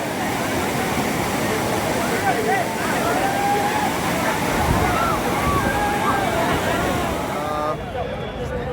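Water pouring steadily at a river bathing spot in Ayodhya, a continuous broad rushing roar with distant voices of children bathing blended into the wash throughout.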